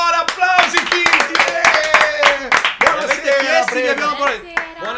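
Studio audience applauding as two guests, Matteo and Eleonora, enter a talk-style reaction show; steady clapping mixes with loud voices talking and calling out over it throughout.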